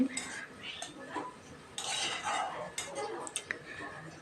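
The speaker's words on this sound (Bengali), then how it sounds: "আবার একটু ঢাকা খুলে নাড়াচাড়া করে দিচ্ছি" A utensil scrapes and clinks against a pan while stirring softened, nearly cooked radish, with intermittent metallic taps and scraping bursts under a quiet kitchen background.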